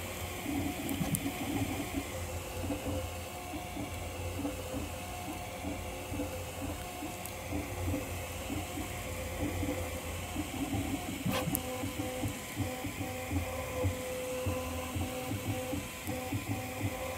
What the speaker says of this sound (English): Getting a little bit of popping with the ABS